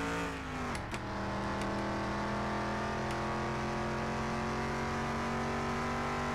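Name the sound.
car accelerating and driving in a car mechanic video game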